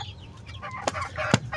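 Short sharp clucks from a Kanokis gamefowl hen, two distinct calls over a low background murmur of other birds and farmyard noise, fairly close.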